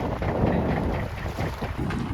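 Out at sea, a boat passes close by, a continuous low engine rumble and rushing water mixed with heavy wind buffeting, loud and steady throughout with no voices.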